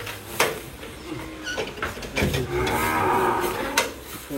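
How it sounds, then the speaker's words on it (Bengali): A calf moos several times, close and fairly loud, with a long drawn-out call in the middle, set against some background shuffling and noise. "এই যে ভাই আপনার এই বাছুর,"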